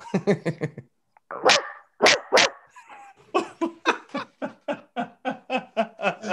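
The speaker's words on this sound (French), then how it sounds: "il va te japper après, Guillaume." A dog barks in quick repeated bursts, pauses briefly, then keeps up a steady run of sharp barks close by.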